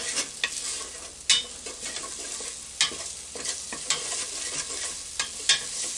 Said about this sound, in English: So I'm dumping them in there now. And let's stir them up a little bit.